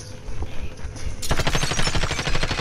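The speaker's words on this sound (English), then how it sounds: "You already shooting?" Rapid automatic gunfire from a video game erupts partway through after quieter background noise, with a fast repeating burst of loud shots continuing to the end.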